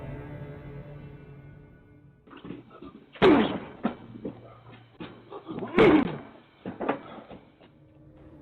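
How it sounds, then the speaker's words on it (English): A man throws himself against the front door of a house, caught on a doorbell camera; two loud, heavy thuds land a few seconds apart amid quieter rustling and knocking. "repeatedly slamming himself into the front door of a house."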